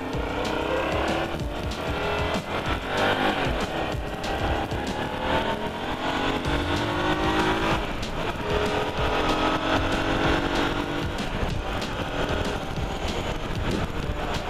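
A vehicle drives a short lap outdoors on a fine day, its engine and tire roar steady and close throughout with rushing wind noise.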